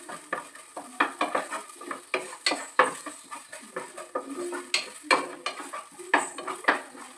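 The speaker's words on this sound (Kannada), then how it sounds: "ಜೀರಿಗೆ, ಮೆಂತೆ ಮತ್ತು ಒಂದು ಸ್ವಲ್ಪ ಓಮ್ ಕಾಳು ಹಾಕಿದ್ದೀನಿ ಫ್ರೆಂಡ್ಸ್. ಹಾಕ್ಬಿಟ್ಟು ಫ್ರೈ ಮಾಡ್ಕೊಬಿಡೋಣ." Cumin, fenugreek and ajwain seeds fry in a pan for an egg curry, with a soft sizzle under frequent scraping and clinking of a spoon against the pan in an irregular stirring rhythm, close by and without speech.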